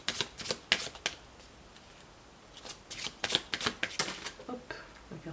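Oracle cards are shuffled by hand in quick bursts of riffling and flicking, soft and close, with short pauses between rounds of shuffling.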